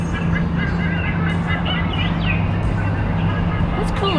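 Chirping bird calls played through a small loudspeaker along an outdoor walkway in Brisbane, Queensland, Australia, with a steady low hum and background noise throughout.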